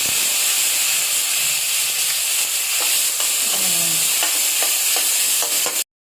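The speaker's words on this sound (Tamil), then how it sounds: "தக்காளி, பச்சை மிளகாயெல்லாம் நல்லா வதங்கினா" Chopped tomatoes and green chillies frying in oil in a pan, a steady loud sizzle and hiss with occasional stirring scrapes, then cutting off abruptly.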